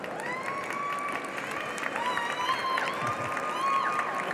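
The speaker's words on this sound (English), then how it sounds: "Give them a round of applause." An audience applauds panelists at a fireside chat on the agricultural transition, with sustained clapping and crowd noise mixed with faint tonal whistling.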